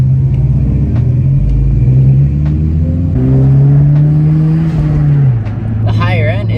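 A 10th-generation Honda Civic Si fitted with a PRL catless downpipe and front pipe revs up, its loud engine note climbing and holding before dropping back, with talk over it.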